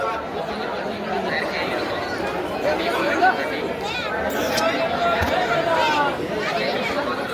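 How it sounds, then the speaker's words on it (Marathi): A dense crowd of temple pilgrims chatters all around in a loud, continuous babble of many overlapping voices, with a few nearer voices briefly standing out. "खतरनाक गर्दी"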